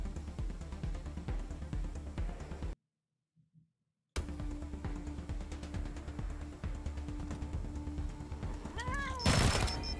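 A cat meows in the video game Wasteland 3, set amid game sounds and background noise, with a brief silent gap and a rising tonal call near the end.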